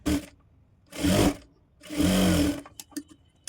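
Sewing machine stitching a blouse, two loud sustained runs of whirring motor separated by pauses, then short stop-start bursts, close and alone.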